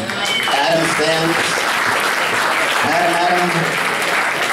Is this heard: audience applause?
yes